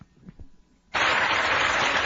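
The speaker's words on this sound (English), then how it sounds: "The morons in the audience are applauding this." A studio audience breaks into applause after a quiet moment, a dense, loud clapping wash that starts abruptly and holds steady to the end.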